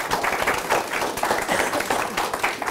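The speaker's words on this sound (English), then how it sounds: "give him a round of applause for a good job." An audience at a town council meeting gives a round of applause, many hands clapping in a steady, fairly loud burst from start to finish.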